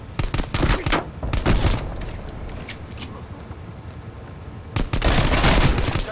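Rapid automatic gunfire in the video game Call of Duty: Black Ops Cold War, dense loud bursts at the start and again near the end with a quieter stretch between, no talking.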